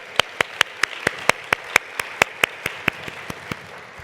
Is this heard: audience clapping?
yes